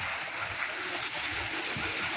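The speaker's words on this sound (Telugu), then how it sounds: "water falls" Steady rushing water noise from a small waterfall at a restaurant, continuous and moderately loud throughout.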